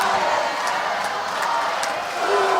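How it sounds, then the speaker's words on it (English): A crowd cheering at the 2025 Michigan State Championship robotics competition for the Blue and Red Alliances, a continuous loud roar of many voices with scattered whoops, sustained throughout. "So we're getting a lot of in-house cheering for both Blue and Red Alliance"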